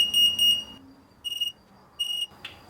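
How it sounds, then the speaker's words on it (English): A Tesla Model X power frunk beeping out its speed setting: a group of rapid high electronic beeps, then two separate short beep bursts, followed by a faint click. "And then it's going to beep the number of what is on."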